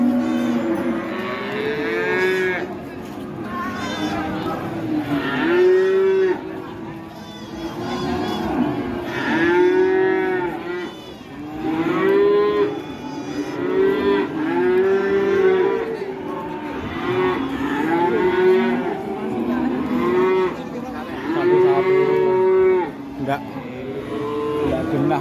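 An angry cow moos repeatedly and loudly after being let loose, with long drawn-out bellows rising and falling in pitch. A crowd and people's voices chatter underneath throughout.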